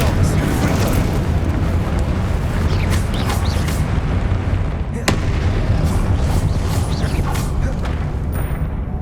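Confringo blasting spell explosions in Hogwarts Legacy, a dense continuous roar of booming blasts and crackling bursts with one sharp crack near the middle, loud and close amid battle noise.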